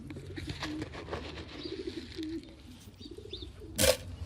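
Pigeons coo in low, repeated throaty phrases through most of the stretch, moderately close, with a brief louder burst of rustling or wing noise near the end.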